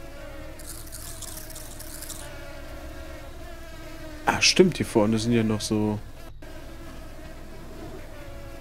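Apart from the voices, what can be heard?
mosquitoes buzzing in the video game Supraland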